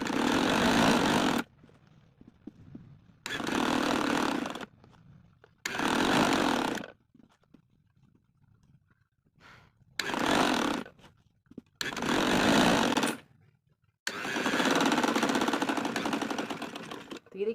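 An electric sewing machine stitches elastic into trousers in six loud bursts of steady running, separated by short pauses with faint handling noise between them.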